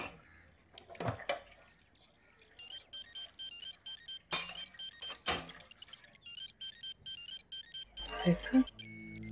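A telephone rings for an incoming call in a Pakistani drama scene, a bright electronic ringtone repeating in a steady pulsing pattern through the middle of the stretch, with scattered clatter and splashy noises around it.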